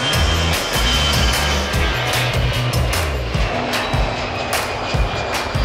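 A loud, steady aircraft engine roar fills the air, a low drone sweeping close overhead with no voices, in the Cook Islands.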